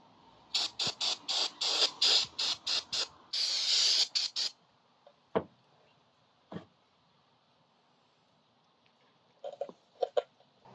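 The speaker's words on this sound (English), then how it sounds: "Just hose her down again." A hose sprays water onto a Juggernaut driver during maintenance after it has been scrubbed with steel wool. About eight short, loud spray bursts come in quick succession, then one longer blast, followed by quiet with a few faint knocks.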